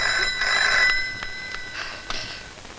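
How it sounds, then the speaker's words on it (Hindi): A telephone rings indoors in a Hindi action film scene, its bright electronic trill repeating in short bursts over a few seconds, moderately loud with no voices over it. "शायद उन्हीं लोगों का फोन है।"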